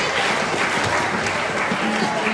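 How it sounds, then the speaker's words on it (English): Audience applause fills a school concert hall at a middle and high school masquerade concert: dense, steady clapping from a large crowd, loud and continuous throughout with no break. "let's give them a huge round of applause"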